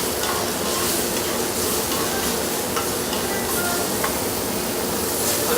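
Onions or leeks sautéing in a pan, lightly browning, give a steady close sizzle and crackle with faint stirring scrapes that stay even from start to finish, with no voices.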